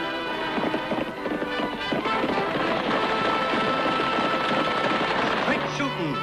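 Hooves gallop at a steady clip-clop beat for the whole stretch, mixed with a loud dramatic orchestral score, in a Western TV show about the sharpshooter Annie Oakley.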